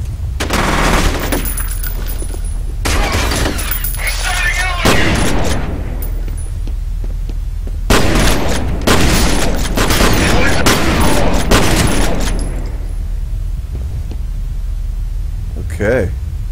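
Shotgun blasts and other gunfire from the video game F.E.A.R. boom in heavy, dense bursts separated by quieter gaps, with a voice talking between them.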